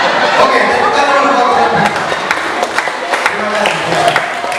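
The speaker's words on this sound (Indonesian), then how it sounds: "Oke, tepukan dulu." A church congregation at a Sunday sermon claps together, a busy burst of clapping mixed with crowd murmur and a few thumps, with voices talking over it throughout.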